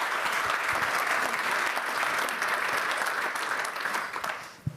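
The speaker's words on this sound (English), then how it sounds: "Carson Booth, round of applause." A conference audience applauds speakers at a technology event, a full, even burst of clapping that holds steady and then tapers off at the end.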